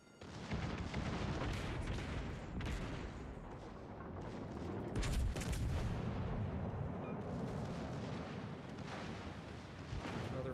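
World of Warships Legends battle with an American Tier 4 battleship's secondary guns firing: a dense, continuous barrage of booming gunfire and explosions rolling on without pause, loud and heavy throughout.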